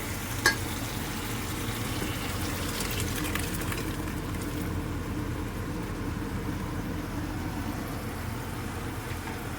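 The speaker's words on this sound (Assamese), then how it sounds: "এইফালে বনি আছে লিভাৰ ফ্ৰাই" Spicy Assamese chicken liver fry cooking in a pan: an even, moderate sizzle that runs without pause, with a sharp clink near the start.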